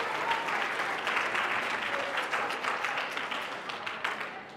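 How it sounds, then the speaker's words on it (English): Audience applause at a 2022 regional awards ceremony: steady, dense clapping from a crowd that holds strong for several seconds and thins slightly toward the end, with no talking over it. "give yourselves a huge round of applause for everything that you accomplished today"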